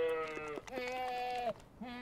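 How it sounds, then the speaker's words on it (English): Transgenic goats carrying a spider gene bleat on a farm, two loud, close, wavering cries one after the other with a third beginning at the end, no talk over them. "Now, thanks to Randy, these goats have just a little bit of spider in them."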